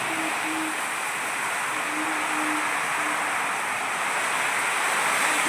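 Heavy monsoon rain hammers down outside in a village amid a thunderstorm, a constant loud roar of water with a faint low tone drifting in and out beneath it.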